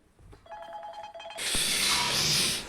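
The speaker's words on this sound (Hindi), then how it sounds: "उन्हीं का फोन आ गया भाई लोग।" A tonal electronic ringtone chirps briefly, then a loud hissing burst of noise washes over it.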